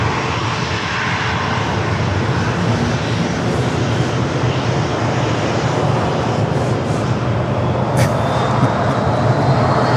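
Southwest airliner taking off from runway 27 at San Diego airport, a loud continuous jet engine roar filling the whole stretch with little variation.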